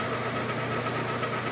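Lathe or milling machine slowed to about 500 RPM while cutting brass rotary valve casing blanks for brass instruments, a steady close mechanical hum with rough, knocking vibration running throughout, no talk.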